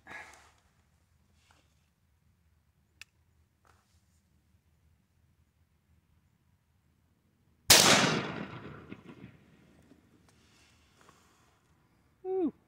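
A Stevens 301 12-gauge shotgun fires a single turkey load, one sharp, loud blast followed by a decaying echo, after a stretch of near-silence with faint handling noises.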